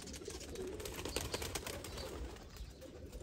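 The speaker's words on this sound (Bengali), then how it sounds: "ওই যে কবুতর কিছু উপরে" Pigeons kept by a fancier coo faintly at a distance, soft low murmurs over quiet background hiss.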